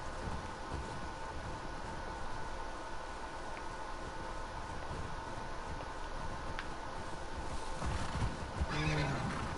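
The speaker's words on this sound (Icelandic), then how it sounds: "hlusta ég á hestana" Horses neigh and whinny from a distance in The Last of Us Part II, their calls half-buried under steady wind-like noise, with faint hoof clops and a louder stir near the end.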